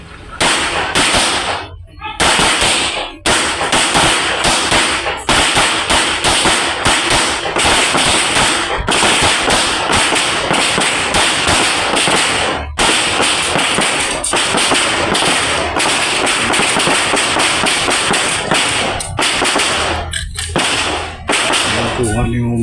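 Rapid volleys of sharp, loud gunshots crack one after another at an outdoor shooting range during a marksmanship drill, dense and continuous with brief pauses, and faint voices occasionally underneath.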